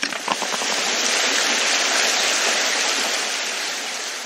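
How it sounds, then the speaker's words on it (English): Water gushes out of a hole made in an underground tunnel wall, a loud, steady rushing roar with a few splashes at the start, continuous to the end. "Water comes out"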